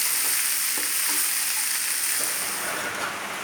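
Sliced bitter gourd sautéing in a hot pan gives a loud, steady sizzle close by, with faint stirring scrapes breaking through the continuous hiss.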